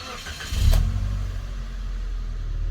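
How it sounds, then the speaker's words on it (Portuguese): A 2005 Mitsubishi Pajero TR4 engine starts with a brief crank, catches with a low surge, then settles into a steady rumbling idle close by, with no talking. "Vou ligar o carro aqui só para ele poder engatar."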